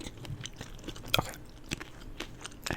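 Chick-fil-A food, including fries, is chewed close to the microphone in an ASMR mukbang, with soft wet mastication and a few crisp bites and crunches, one sharper than the rest, without talk.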